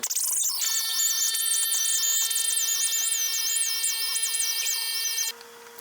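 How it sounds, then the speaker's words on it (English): Rotary tool grinding excess cured Total Boat resin off a pecan shell bowl, a steady high-pitched whine with shifting squealing tones that runs loud and unbroken for over five seconds before cutting off, with no talking. "So anyways, let me grind that off there."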